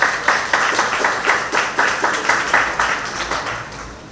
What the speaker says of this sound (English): please give the convener of Carnival, Mr. Dawad Philip, a sincere round of applause